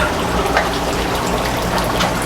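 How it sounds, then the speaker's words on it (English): Water from an aquaponics grow bed drains steadily back into an IBC tote below, a continuous close splashing gush with no talk. "The grow bed floods and drains all day long, going right back into the bottom IBC tote, which itself has a pump."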